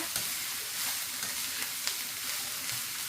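Fried sprats, potato and eggplant are stirred together in a pan for puttu kothu with dried anchovy. A soft, constant sizzle runs throughout, with faint scraping stirs on top.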